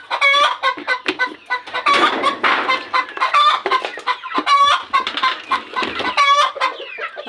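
Backyard farm chickens cluck loudly and repeatedly up close, with overlapping squawks and a brief crow-like call among them.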